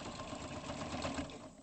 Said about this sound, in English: This one's used to stitching through fairly thick things because it is actually a quilting machine